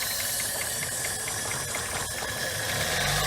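Car engine running rough and uneven while Gumout intake cleaner is slowly drawn in through a vacuum line, a steady close mechanical drone with rattling knocks and a faint hiss throughout.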